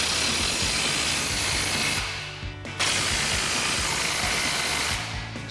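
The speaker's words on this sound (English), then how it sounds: "we're gonna grab our 27 millimeter socket on our impact and get these off" Impact wrench fitted with a 27 mm socket spins U-bolt nuts off a Silverado 2500 during a leveling lift install, a loud continuous mechanical buzz that stops briefly partway through and then resumes at full strength.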